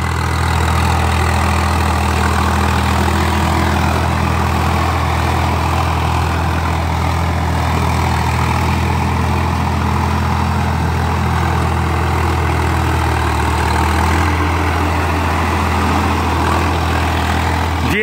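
A Swaraj 855 FE farm tractor, around 50 to 55 HP, idles with a loud, steady low diesel drone and rumble that holds unchanged throughout, close by and alone.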